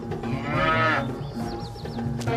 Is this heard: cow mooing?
yes